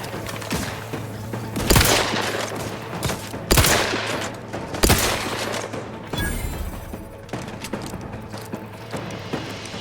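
Bursts of gunfire in the sci-fi shooter Outer Worlds 2, with loud shots around two, three and a half and five seconds over a steady rumble of combat, then scattered softer bangs.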